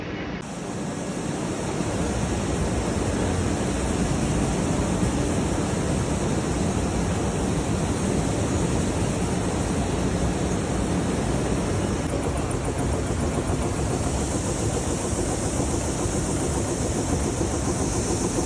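Steady, loud roar of an optical sorter machine processing flax, with a broad hissing rush, running without pause throughout.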